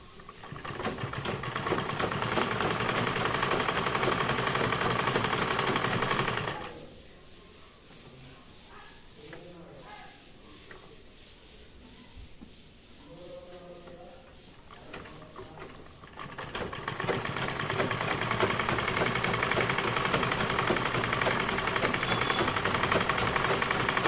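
A sewing machine stitches a 36-size bra-cut blouse in two long, steady, buzzing runs, with a quieter stretch between them of fabric handling and soft rustling.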